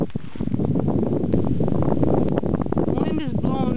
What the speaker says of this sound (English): Wind is blowing non-stop up to 40-mile-an-hour gusts for the last 2 days